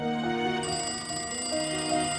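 A telephone rings in a home in an Indonesian drama, a bright, steady electronic ringtone with repeating melodic tones that continues for the whole moment, alone with no talking.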